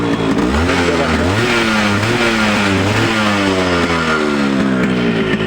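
A Yamaha RX 100 two-stroke motorcycle in fresh condition revs loudly up close, the engine pitch rising and falling repeatedly over a steady rough idle, with no talk over it.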